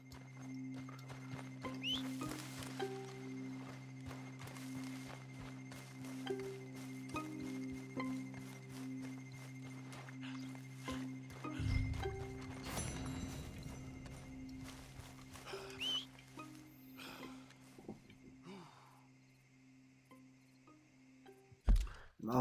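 Steady clip-clop of horse hooves in Red Dead Redemption 2 with an occasional whinny, over a constant hum and faint insect chirps; a sharp clatter near the end.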